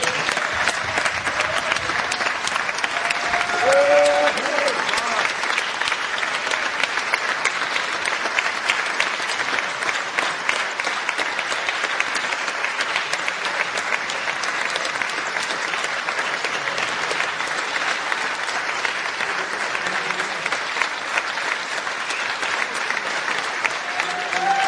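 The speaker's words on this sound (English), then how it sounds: "these all people just gonna now stand up and cheer you." A large audience at an award ceremony gives sustained, dense applause throughout, steady and loud, with crowd noise mixed in.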